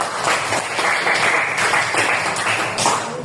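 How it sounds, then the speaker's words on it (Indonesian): A classroom of eighth-grade students claps for a classmate's correct answer, a dense, steady round of applause lasting a few seconds. "coba beri aplaus yang meriah kepada temannya"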